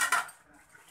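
Metal utensils clatter briefly against a pot as roasted spices for homemade mango pickle are scraped out, two quick bright clinks up close followed by quiet kitchen stillness.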